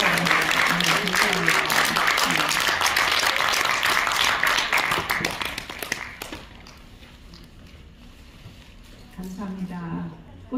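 Members at the annual general meeting of the Korean private museum association applaud their newly inaugurated eleventh president, loud dense clapping that tapers off midway, leaving a quieter stretch before voices return.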